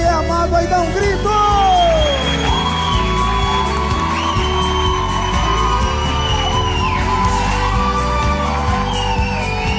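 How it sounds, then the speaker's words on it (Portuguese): A live crowd at a Brazilian sertanejo concert shouts and whoops on request over loud band music, with cheering spread across the whole stretch. "Quem tá amando e é amado aí dá um grito."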